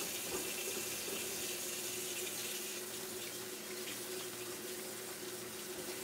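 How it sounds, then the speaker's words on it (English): Hands being scrubbed under a running kitchen tap: a steady, continuous rush of water into the sink, fairly close and even throughout, with no talking. "now I can go over here and scrub-a-dub-dub my hands"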